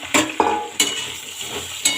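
Eggplant goes into a pan of frying potatoes, a few sharp clatters as pieces land and get stirred, followed by a soft continuous sizzle of oil, close up with no voices.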